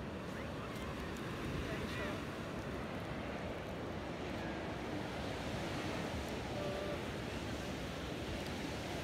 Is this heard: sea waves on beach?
yes